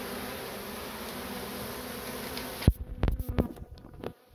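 Honey bees buzz in a dense, steady drone as they cluster on a wall during a hive relocation, then several sharp knocks and handling noises break in near the end.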